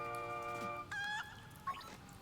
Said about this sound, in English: It raises a legendary rooster that lets you fly across the world.